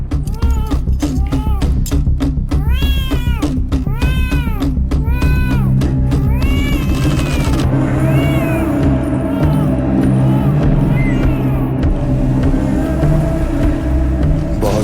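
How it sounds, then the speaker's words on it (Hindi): A cat meows again and again in a Honey (2026) film scene, its rising and falling cries loud and close over a steady background hum, then fading into a quieter stretch. "जाओ, जाकर बिल्ली को देखो।"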